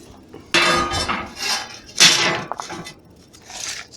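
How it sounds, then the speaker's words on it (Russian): A metal spacer ring is set down on a homemade steel stove built for a large kazan, ringing out in a series of loud metallic clanks and scrapes with short pauses between. "я ставлю вот это кольцо."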